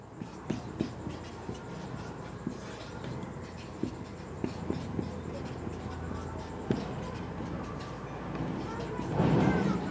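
Pen scratching steadily on paper while solving a Class 12 logarithm problem, a soft continuous scribbling with small taps and strokes close by, and a bit of background noise toward the end.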